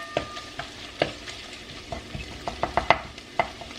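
A garlic clove infuses in hot oil in a pan, giving a low, steady sizzle broken by scattered clicks and taps as it is stirred, close by and without voices.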